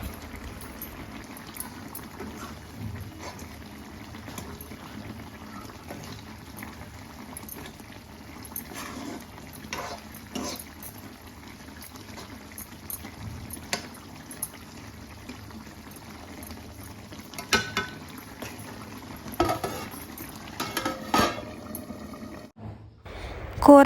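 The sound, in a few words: vada curry simmering on the stove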